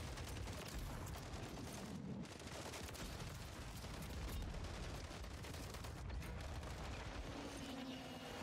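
Heavy gunfire in Call of Duty MW3 from a JAK Widemouth blunderbuss shotgun, mixed into a dense, constant roar of battle noise with repeated booming shots at a fairly even, busy pace.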